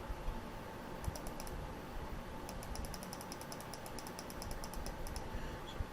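Soft keyboard typing and mouse clicks at a computer running design software, bursts of quick light taps in short runs, faint and close against a steady background hiss.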